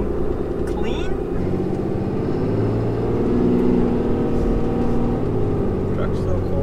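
A pickup truck drives through a small town in Fort Kent, northern Maine, its engine a steady low rumble and road hum throughout, with people talking over it.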